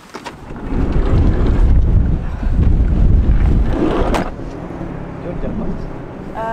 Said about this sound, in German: Ganz schön windig hier.